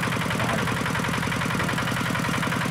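Diesel engine of a Quick G1000 rice field tractor with a Kubota RD85Di2S motor, running in a steady close, loud chugging idle with a fast even pulse, being driven up to move to another paddy.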